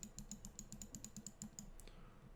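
A quick run of crisp right-button clicks from a Roccat Kone Aimo Remastered mouse, close and quiet, about a dozen in a steady rhythm before stopping.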